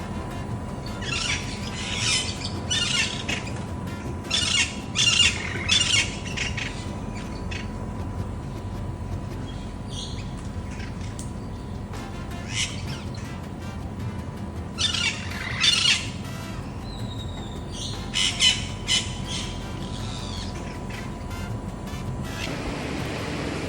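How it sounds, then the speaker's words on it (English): Green parrots squawk in harsh, repeated bursts from nearby trees in Samara, Costa Rica, over a constant low hum of distant traffic. "It's like they're like little green parrots."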